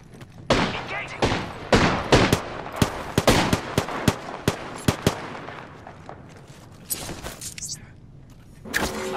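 Gunfire in the video game Apex Legends comes as a loud run of sharp shots in quick succession over several seconds, then trails off into softer game noise before a final swell.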